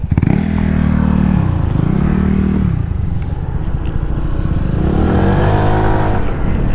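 A Honda Click 125i and a Yamaha Mio Soul scooter racing side by side, their engines revving loudly with rising and falling whines, close by and alone.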